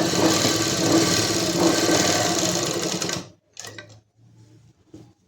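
A sewing machine runs in one steady, loud whir while stitching the folded hem of a kurti collar, then stops abruptly, leaving a few soft handling clicks and rustles.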